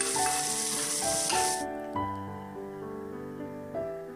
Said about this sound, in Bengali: এবার পেঁয়াজগুলো দিয়ে দিলাম, দিয়ে আমি হালকা ভেজে নিচ্ছি।